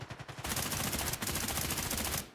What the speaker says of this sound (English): Get some shots in on Beard, but can't quite